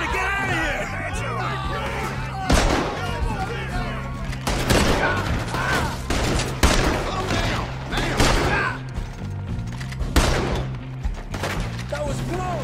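Gunfire in the video game Red Dead Redemption 2 breaks out as a fusillade of loud, sharp shots and booms in irregular bursts, mixed with shouting voices and game music throughout.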